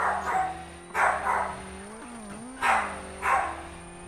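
A pet dog barks four times in the background in spaced pairs, each bark sharp and moderately loud, over the steady engine drone of a Colin McRae: Dirt rally car.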